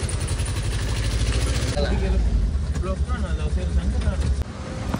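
A tempo goods vehicle's engine running while driving, a continuous low rumbling drone with rattles and a shift in tone midway, heard under someone talking.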